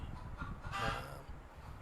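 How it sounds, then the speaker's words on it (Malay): A village hen cackles after laying an egg, a short, loud, ringing call from nearby, heard alone over a low background murmur. "Ayam tu dia berkokok macam tu disebabkan dia dah bertelur."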